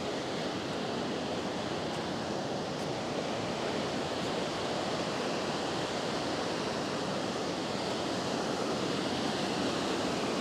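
Ocean surf at Windansea Beach, San Diego, roars steadily and unbroken, a dense, close wash of breaking waves with a touch of breeze.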